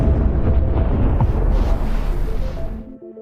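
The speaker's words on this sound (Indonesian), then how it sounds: "Melihat efek ledakan 1 kg nitro seperti itu, Fred pun tak bisa membayangkan" A 1 kg nitro explosion: a heavy, rumbling blast fills the clip, a loud sustained boom with crackling debris that slowly fades out.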